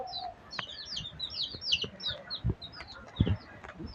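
Chickens cluck and chirp in a busy flock, with quick overlapping calls and a few low thumps between them.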